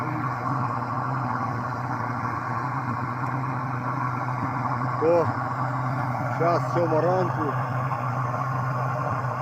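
A tractor engine warming up and idling on a frosty morning around minus 8 to minus 10 degrees, a steady low rumble running throughout beneath a man's speech.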